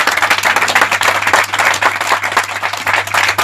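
A church congregation at a live Quechua-language fasting service breaks into loud, sustained applause for God, dense clapping that continues steadily throughout without pause.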